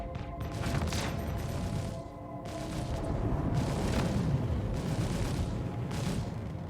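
Spaceship guns firing in Star Citizen, free-aimed at a Cutlass ship: dense, continuous volleys of rumbling shots with bursts of higher crackle, loud and sustained over a steady engine drone, with a brief dip midway.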